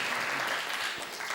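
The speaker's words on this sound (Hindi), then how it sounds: "आप एक बार जोरदार ताली बजा देंगे तो मेरा हौसला बढ़ जाएगा।" Audience applause at a Hindi comic poetry gathering, a dense steady wash of many clapping hands that stays loud and unbroken from start to finish.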